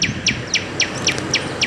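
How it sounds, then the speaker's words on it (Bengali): Birds call in a steady series of short, high chirps, about seven in all, repeating evenly over a soft background hiss of open air. "পাখির ডাক শোনা যায়।"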